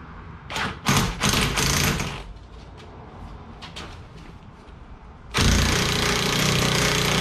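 A lug nut being tightened onto a newly fitted wheel stud on a Z32 300ZX, heard as loud, rapid mechanical rattling bursts, then a quieter stretch, then a final sustained burst that lasts to the end.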